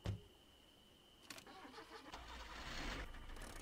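An old car's engine cranks and catches in the driving game Jalopy, then settles into a low, steady idle that rises slightly, fairly quiet and heard alone.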